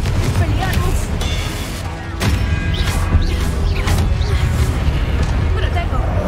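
Confringo spell blasts in Hogwarts Legacy, a run of sharp booming bursts and crashes over a steady rumble, with a voice talking throughout the spell combat.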